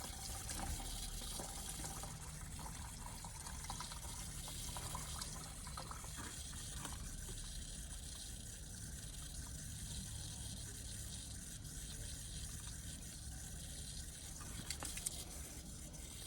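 Tap water runs steadily through a three-stage dechlorinator filter for a koi pond, a continuous, even rushing flow heard alone from start to finish.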